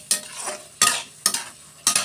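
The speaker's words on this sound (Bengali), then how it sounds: "এই যে তরকারির মশলা কষাচ্ছি আমি" Curry spices frying in a pan while being stirred, close sizzling with four sharp scraping strokes of a utensil at a steady rhythm.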